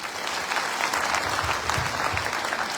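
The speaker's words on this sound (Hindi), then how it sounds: "एक बार अपने लिए जोरदार तालियां।" At a business meeting in Punjab, an audience gives itself loud, sustained applause, a dense even wash of many hands clapping with no talk over it.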